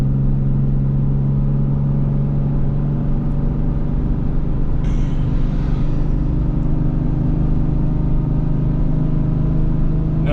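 A Ram 3500 dually heavy-haul pickup towing a CAT 310 excavator, its engine holding a loud, steady low drone near 2,500 RPM with little change throughout.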